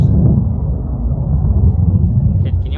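A loud, steady low rumble like a jet passing overhead rolls on without a break, heard outdoors at a cemetery in Yuma.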